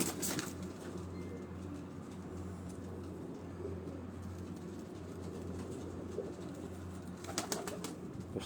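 Sialkoti pigeons on a rooftop near Rawat, Rawalpindi, coo in a low continuous murmur against a steady drone, with a few brief sharp noises near the start and end.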